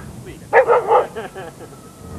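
A few sharp barks from a dog during an animal training session, a short cluster of three loud yaps followed by softer yips, close and clear with no talking.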